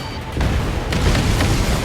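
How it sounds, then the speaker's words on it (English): An explosion in the combat flight game Ace Combat 7, heard as a deep, loud, rumbling boom that swells and sustains briefly over a low roar. "What was that explosion?"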